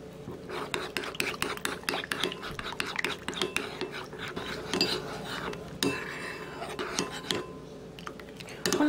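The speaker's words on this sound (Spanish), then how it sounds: "con ayuda de una cuchara vas a tratar de disolver todo por completo" A metal spoon clinks and scrapes steadily against a bowl, stirring gelatin into hot water, with rapid uneven taps running throughout and a faint voice in the background.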